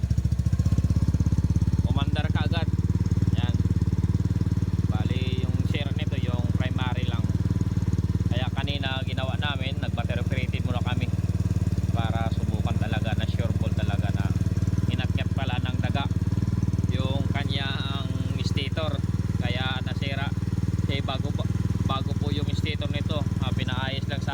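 A motorcycle engine idles loudly and continuously after stator coil wiring repair, with people talking over it.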